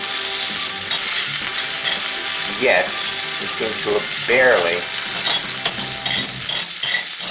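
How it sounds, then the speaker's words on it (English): Continuous crackling sizzle of pancake batter frying in hot margarine in a cast iron skillet, with a voice speaking over it and light scraping from a utensil. "I already heated this pan hot enough to make the margarine sizzle when I put it in the pan."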